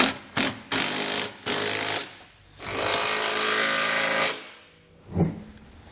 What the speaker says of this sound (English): So now we're going to take a 19 millimeter socket. Just go ahead and snug up all of our hardware.